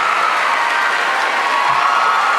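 Audience applause and crowd noise, a steady dense wash of clapping held at an even level throughout, with no talk over it.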